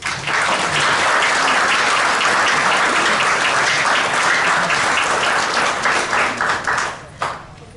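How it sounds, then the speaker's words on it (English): An audience at a remembrance symposium applauds the candlelighters, loud dense clapping that holds steady for several seconds before tapering off into scattered claps. "How about if we give the candlelighters a round of applause?"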